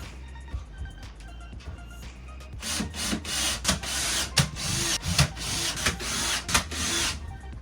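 A long drill bit bores into wood in a small workshop, giving a rough grinding whir in uneven bursts after a brief quieter moment with light handling.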